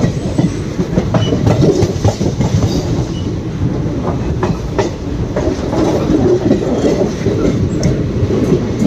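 Palakkad–Chennai Superfast Express rolling toward Udumalaipettai station, a loud, steady rumble with rhythmic wheel clatter on the rails throughout, close and continuous.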